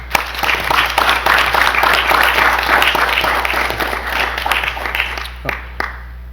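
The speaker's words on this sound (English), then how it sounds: "How about with just one more round of applause for all of our hardworking teachers?" A school board meeting audience gives a round of applause for teachers, steady loud clapping from many hands that tapers off into a few scattered claps near the end.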